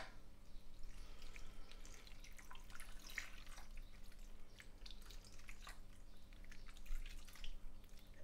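Water trickles and drips steadily as 300 ml is poured into a slow cooker for a leftover casserole, a faint, continuous splashing with no voices.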